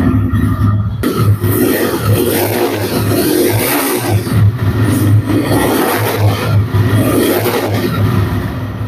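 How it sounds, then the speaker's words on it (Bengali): A 2024 TVS Raider motorcycle in showroom condition, engine running close and loud with a steady idle and repeated revs rising and falling. "এখন দেখাবো হচ্ছে বাইকটির সাউন্ড কোয়ালিটি।"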